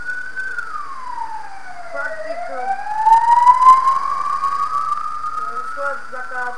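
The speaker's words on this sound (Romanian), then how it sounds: "dacă ați auzit o ambulanță" A wailing ambulance siren sweeps slowly down and up in pitch, fairly loud and passing nearby, with a brief spoken word over it.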